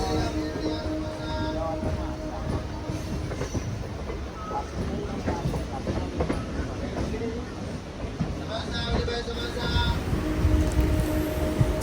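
MEMU passenger train rolling along after departing Gudivada toward Vijayawada, a steady loud rumble with rhythmic wheel clatter on the rails, heard from inside the coach and continuing throughout.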